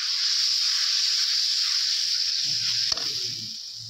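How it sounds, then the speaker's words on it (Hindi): Turmeric, coriander and garam masala frying in a pan for kadhi, a steady loud hiss of sizzling that softens toward the end, with a brief clank of a utensil near the close. "मसाले को भून लेते हैं।"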